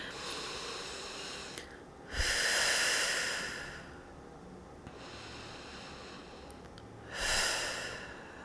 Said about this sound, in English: as you continue breathing in through your nose and out through your mouth